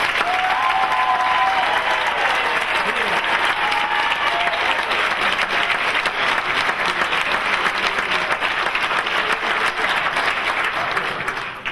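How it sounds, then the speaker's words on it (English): A Navy MLT graduation audience gives a rousing round of applause for the graduates, a loud, sustained crowd of clapping that holds steady for the whole stretch before tapering off slightly at the end. "please give our outstanding graduates another rousing round of applause"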